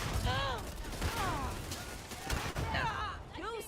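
Gunfire in the sci-fi game Starfield comes as repeated sharp bursts during a firefight, fairly loud and close, mixed with in-game character voices talking over the shots.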